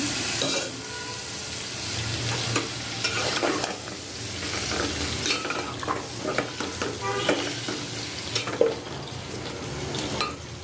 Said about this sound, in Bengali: এখন হচ্ছে মশলা কষিয়ে নিচ্ছি ঝরকা করার জন্য এখন ডাটা আর আলু দিয়ে দিচ্ছি কষানোর জন্য